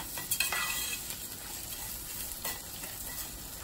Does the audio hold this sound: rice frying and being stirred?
yes